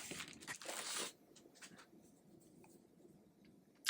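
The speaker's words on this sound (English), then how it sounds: "Let me get this out of the plastic so that we can take a good solid look at this." A newly unboxed 10-gigabit network switch is pulled out of its plastic packaging, with close, quiet crinkling and rustling that is loudest at first. Scattered soft crackles follow, then a final crisp rustle.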